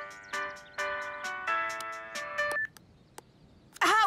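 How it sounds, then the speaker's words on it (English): A cartoon phone ringtone plays a bright electronic tune of sustained tonal notes in steps, stops abruptly, then a short burst of another sound follows after a brief quiet gap. "However did that horrid song become my ringtone?"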